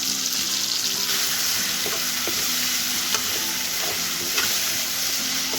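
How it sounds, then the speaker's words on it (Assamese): Chicken curry meat frying in masala over a high flame gives a loud, steady sizzle, punctuated by scraping and tapping as it is stirred, with no talking. "গেছটো হাই ফ্লেমত দি মাংসখিনি ভালদৰে লৰাই থাকিব"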